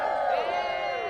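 A crowd of young people lets out a short, loud cheer with whoops, a brief collective shout that rises and then holds.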